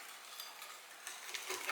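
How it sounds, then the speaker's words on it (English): A whisk stirs a sugar mixture in a bowl before chia seeds go in, a soft, quick, steady scraping and swishing close by that grows slightly busier toward the end. "So at this stage I like to whisk before I add the chia seeds"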